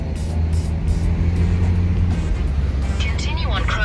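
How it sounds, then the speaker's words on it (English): Car passing on Cromer Road, a country road, a broad low rumble that swells and then fades over a few seconds, fairly close, with a brief voice speaking near the end. "Car coming."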